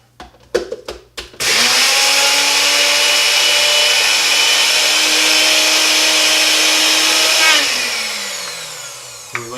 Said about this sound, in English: I'm gonna stick this on the NutriBullet.